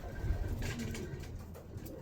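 Racing pigeons coo inside a loft, soft low calls repeating close by over a steady room hum, with no voices.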